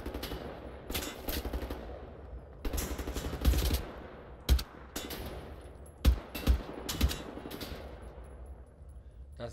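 Gunfire in Wolfenstein The New Order, with several separate bursts of automatic fire and sharp single shots spread across the stretch, fairly close and punchy against a quieter ambient game background.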